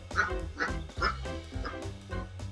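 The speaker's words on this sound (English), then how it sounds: "This submitter sent us a video of some ducks visiting with their ducklings." Several ducks with their ducklings quack in a short burst of repeated, fairly close calls, three or four distinct quacks rising over a steady background.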